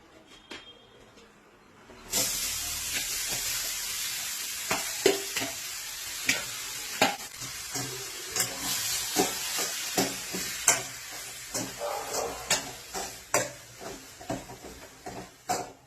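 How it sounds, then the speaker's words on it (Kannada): Grated totapuri mango roasts in a spoonful of ghee: a soft background hiss jumps to a bright sizzle after a quiet start, punctuated by regular scraping stirs of a spatula, close up with no talk. "ತುರ್ಕೊಂಡಿರೋದು ತೋತಾಪುರಿಕಾಯಿನ ತುರ್ಕೊಂಡಿದೀವಲ್ಲ, ಇದನ್ನ ಹಾಕಿ ಸ್ವಲ್ಪ ತುಪ್ಪದಲ್ಲಿ ಹುರ್ಕೋಬೇಕು"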